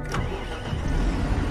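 A car engine cranks and catches in the Farming Simulator video game, a steady mid-pitched rumble that settles toward idle.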